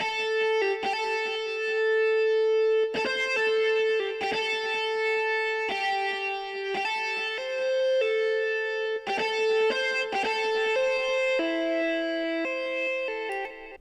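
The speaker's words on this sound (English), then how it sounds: "This is my guitar preset. It sounds like this." A guitar preset in a Pluggnb beat plays bright plucked notes and chords, each strike ringing out with chorus and echo, in a repeating melodic pattern that rises near the end.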